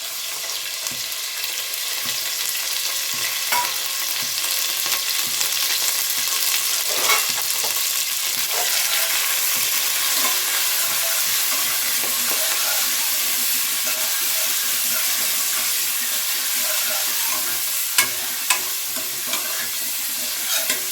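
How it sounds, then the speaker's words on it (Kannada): Fenugreek leaves and chopped onion fry in hot oil with a steady, close sizzle and hiss, broken by occasional stirring scrapes, and no one speaks. "ಈಗ ಇದಕ್ಕೆ ಮೆಂತ್ಯ ಸೊಪ್ಪು ಮತ್ತು ಈರುಳ್ಳಿ ಕಟ್ ಮಾಡ್ಕೊಂಡಿದ್ದೀನಿ, ಅದನ್ನು ಹಾಕ್ತಾಯಿದ್ದೀನಿ"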